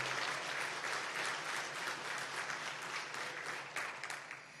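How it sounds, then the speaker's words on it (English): Applause from the audience at a State of the Cities business luncheon for the Texas City La Marque chamber, steady clapping from a full room that tapers off at the end. "Let's give all of our luncheon sponsors a big round of applause."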